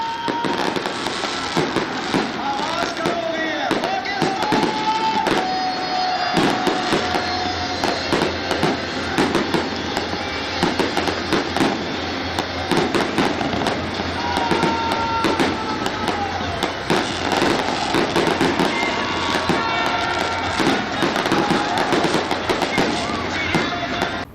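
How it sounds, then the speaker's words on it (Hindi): Fireworks crackle and bang in rapid, dense bursts without pause at a public display at a mall in Karachi, loud and continuous, with a crowd murmuring underneath. "गीगा मॉल में 6 सितंबर के हवाले से आतिशबाजी का शानदार मुजाहरा किया जा रहा है"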